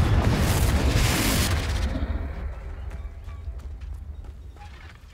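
A Confringo blast spell cast in the Hogwarts Legacy video game erupts as a loud, broad burst at the start and then fades into a rumbling, crackling decay, with clattering effects scattered through the tail.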